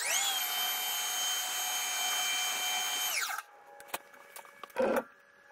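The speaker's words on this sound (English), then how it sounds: "This time we should be able to take a little 10 thou skim off of there" A lathe or grinding machine takes a light 10 thou skim cut on metal at a feed of 4 thou per revolution. It gives a steady, loud whine with a constant tone for about three seconds, then winds down, followed by a few faint clicks and a brief thump.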